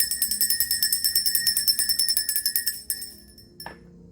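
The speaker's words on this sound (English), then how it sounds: "I'm gonna ring a bell here." A bright metal bell rung in a rapid, even series of strikes during a meditative spiritual session, the tone ringing on and fading out after the strokes stop, with one last soft tap near the end.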